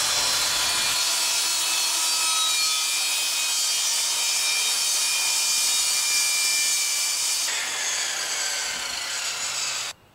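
A board for a small coffee table is trimmed by sawing, producing a continuous loud rasping, grinding cut that runs nearly ten seconds, its tone shifting slightly partway through before stopping abruptly.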